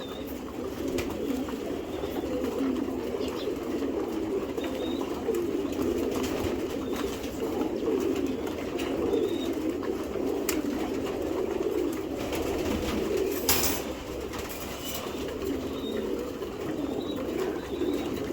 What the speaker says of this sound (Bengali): এই যে মাদি কবুতরটি